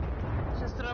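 A grenade explodes in a competitive first-person shooter match, a single dense low rumble filling the whole moment, loud and close.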